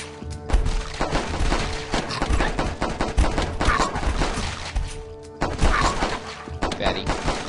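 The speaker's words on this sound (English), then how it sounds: "Yeah, you're fat, so I shot you." Rapid bursts of gunfire from the video game The Last Stand 2, dense and continuous with sharp repeated shots and occasional crashes, with a voice talking over the shooting.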